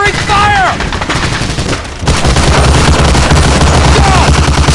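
Covering gunfire in the World War II shooter Medal of Honor: Allied Assault, dense overlapping rifle and machine-gun bursts at close range, loud and continuous with brief whistling tones, a voice shouting over the battle.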